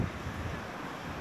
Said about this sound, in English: I'm gonna unplug so that perhaps you can hear the waves behind me